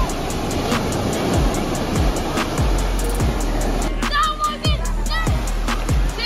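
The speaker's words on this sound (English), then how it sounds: "there were some big waves that would just slam you so hard" Big ocean waves crash and slam onto the beach at Manuel Antonio, a loud continuous roar of surf with repeated surges, while people talk and shout faintly in the background.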